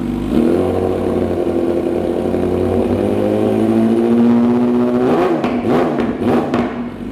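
A loud Yamaha R6 sport motorcycle with an SC Project aftermarket exhaust holds a steady, rising drone, then blips the throttle in quick, sharp revs with crackling pops near the end.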